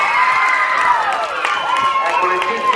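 A crowd applauds and cheers at a school athletics event in Bovolone, honouring a girl whose long jump reached 3.70 metres. The clapping is a dense, steady wash that lasts throughout, with an announcer's voice speaking over it.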